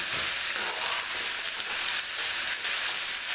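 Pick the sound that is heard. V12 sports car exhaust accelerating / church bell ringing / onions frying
onions frying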